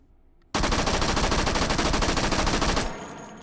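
An M1A1 Thompson submachine gun with a bare barrel fires one sustained full-auto burst of about two seconds in the VR game H3VR, loud and rapid, after which the sound cuts off abruptly.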